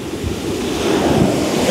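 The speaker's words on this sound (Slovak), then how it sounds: "A je také burlivé more." Rough sea waves breaking on a beach in Spain, a loud close rushing surf swelling slightly over the short stretch, with wind noise on the microphone and no talk.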